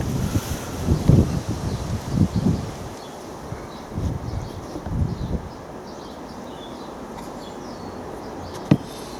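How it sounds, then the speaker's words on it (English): Wind gusts across an allotment with trees nearby, blustery rumbling buffeting on the microphone that swells in several gusts, then settles into a steadier rushing background with a sharp knock near the end. "As you can see from the trees behind me, the wind's picking up now."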